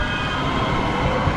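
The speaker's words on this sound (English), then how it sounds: "Can this bike keep up with the train?" Metro Blue Line train passing close by in Los Angeles near Compton, a continuous loud rumble and rail roar filling the moment with no break.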